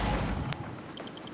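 A flashbang grenade bursts in a Gears shooter game with a quick sharp pop, followed by a thin high ringing tone pulsing several times, set against low rumbling game noise.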